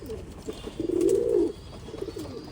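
Pigeons being sold in Bangalore coo once in a clear, rounded call near the middle, with softer cooing and faint bird sounds around it and no talk.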